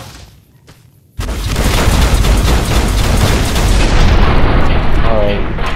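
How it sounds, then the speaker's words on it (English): A rocket launcher fires in a video game, a sudden loud boom after a quiet second, followed by a sustained roaring blast and rumble that carries through to the end. "Pulls out a rocket launcher."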